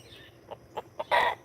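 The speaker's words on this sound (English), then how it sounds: "A partial silky rooster." A partial silkie rooster gives a few short, close clucks that build into a louder, brighter burst of calling at the end, with no talk.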